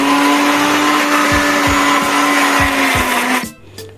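A mixer grinder whirs loudly and steadily, grinding masala to a fine paste for Kongu-style white chicken biryani, with a few low thumps as it runs before it cuts off abruptly near the end.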